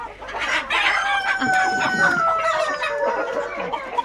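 Chickens clucking steadily, with a rooster's crowing calls rising over the busy, continuous flock noise close by.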